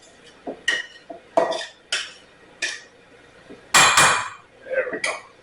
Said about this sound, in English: Now I'm going to clean this a little more.